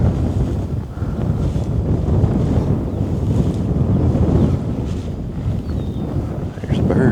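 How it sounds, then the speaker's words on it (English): Strong wind whips across the microphone outdoors during a bowhunting turkey hunt, a loud, unbroken rumbling rush that rises and falls in gusts throughout. "Crazy windy out here."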